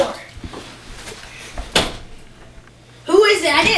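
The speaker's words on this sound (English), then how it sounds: "Can you get the door?" A door or cupboard bumps and clatters once, close and sharp, in a quiet room, and a voice speaks just afterward.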